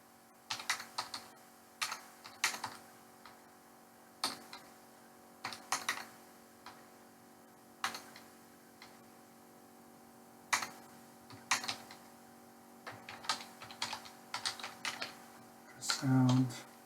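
Bursts of typing on a computer keyboard as numbers are entered into a billing form, with irregular clusters of clicks and short pauses across the span and a brief low tone near the end.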